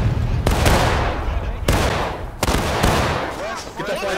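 Black-powder musket gunfire in the Civil War game War of Rights, several loud close sharp shots cracking out at irregular intervals over a dense battlefield rumble.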